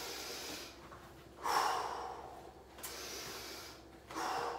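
Deep breaths taken during a hip swing stretch in a home workout, with a few soft inhales and exhales that swell and fade, quiet and close.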